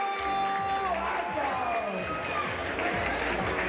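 Crowd at a mixed martial arts bout cheering and whooping for the winner, a dense steady roar of voices with shouts rising over it, fairly distant and continuous throughout.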